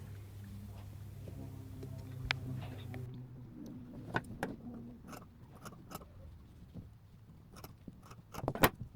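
Scissors snip through fabric while cutting out the fly piece for tailored shorts, a series of sharp, close clicks and crisp cuts spaced irregularly over a low background hum.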